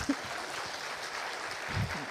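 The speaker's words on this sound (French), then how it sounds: "Vous pouvez vous applaudir." Newly graduated master's students applauding at a graduation ceremony, a brief wash of steady clapping from a crowd in a hall, moderate and even throughout with low murmurs beneath.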